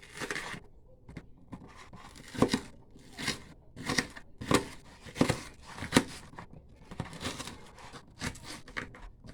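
Knife chopping onions on a cutting board in a home kitchen while cooking spaghetti, heard as irregular bursts of sharp, close chops with short pauses and no talking.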